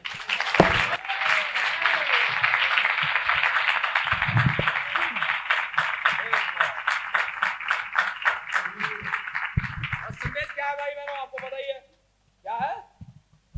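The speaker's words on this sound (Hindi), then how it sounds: "चलिए ताली बजाएंगे।" A church congregation clapping together in fast, rhythmic unison for about ten seconds, loud and full, then tapering off as a voice speaks briefly at the end.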